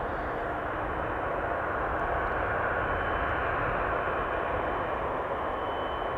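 Airliner of SAS flight 1553 at Amsterdam Schiphol Airport, a steady, broad engine roar with a hissing wash, continuous and fairly distant, holding an even level throughout with no talk.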